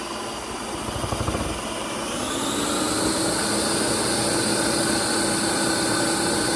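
Ice cream maker churning sorbet in a home kitchen: a steady motor whir that starts rough and settles into a constant loud hum with a rising whine, close and continuous with no talk.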